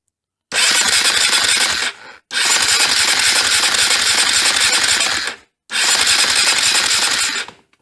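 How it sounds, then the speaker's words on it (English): A KTM 450 motorcycle engine cranks over in three bursts: a steady, loud mechanical whirring, then short pauses between. No one speaks. "let's crank it over and just see what it looks like"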